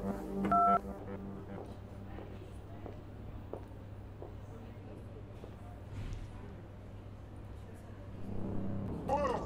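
A phone is dialed to reach a security in-charge, giving a short burst of keypad tones near the start, followed by low background hum and faint movement, with voices speaking around it.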